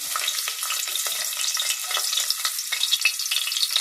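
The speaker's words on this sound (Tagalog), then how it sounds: "Gigisa na tayo ng bawang." Garlic sizzles and crackles steadily in a hot pan, a dense frying hiss with small pops throughout, close and fairly loud, no voices.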